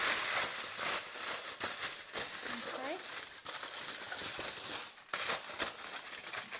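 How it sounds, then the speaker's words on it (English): Aluminium foil being crinkled and pressed into a cake tin for a traditional Christmas fruitcake, close irregular rustling and crackling bursts continuing throughout, with brief speech over it. "you can line it with a parchment paper or foil. I'm putting up the foil because it's what I have handily."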